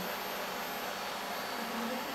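A Xiaomi Roborock S50 robot vacuum cleaner runs indoors with a steady, close whooshing hum of its fan and brushes, unchanging throughout and heard alone.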